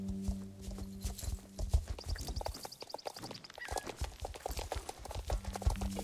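Horse hooves clip-clop steadily in the online horse-riding game Star Stable Online, close and continuous, with a brief whinny and soft game music underneath and no talking.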